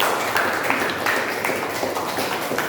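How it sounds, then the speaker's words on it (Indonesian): A classroom of students applauding together, a steady wash of hand clapping close by that holds for the whole few seconds with no clear pauses. "Tepuk tangan untuk kita semua dulu."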